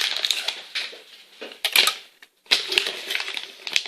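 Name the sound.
knife cutting butter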